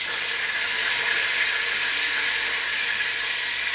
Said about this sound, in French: On fait frire.